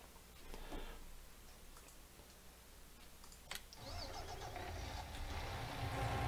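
A tractor engine starts in a farming video game, with a few clicks and a cranking catch before a low rumbling idle settles in and grows steadier, quiet throughout.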